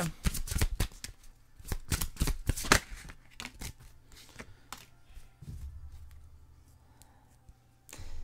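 Tarot cards being shuffled in rapid flurries of crisp riffling bursts during the first three seconds, then softer scattered flicks and taps of cards, close and alone with no talk.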